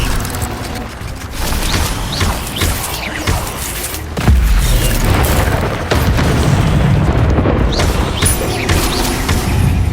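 Incendio fire spell cast in the Hogwarts Legacy video game: loud, dense bursts of fiery booms and crackling blasts, with a heavier surge partway through that keeps roaring until the end.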